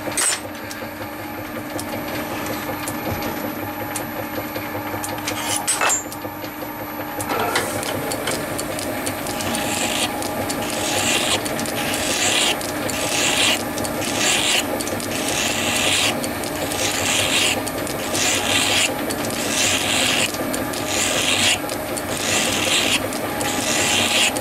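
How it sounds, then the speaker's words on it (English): Hand file worked over a rusty steel engine frame, a loud continuous rasping with regular back-and-forth strokes under a steady background hum. "But to file this up, because this is already running reasonably true, your file's going to follow the contour"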